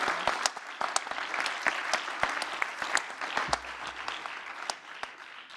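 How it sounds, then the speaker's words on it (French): Steady applause from a crowd, dense clapping with sharp individual claps standing out, lasting throughout without talk. "Et on peut l'applaudir."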